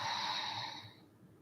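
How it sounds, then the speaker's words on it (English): A single deep exhale through the nose during a yoga breathing exercise: a soft, airy rush lasting about a second, close and steady before fading out, with no talking over it. "Deep exhale through your nose."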